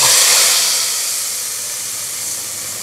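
Roasted tempering poured into a pot of kadhi pakora curry lets out a loud, broad hiss of sizzling that starts strong and gradually settles to a steadier, quieter fizz.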